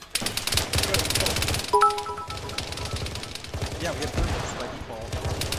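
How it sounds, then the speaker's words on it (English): Video game machine gun suppressing fire rattles in rapid continuous bursts, with a brief tonal beep partway through and occasional voices talking over the gunfire. "This machine gunner is still suppressing in their general direction."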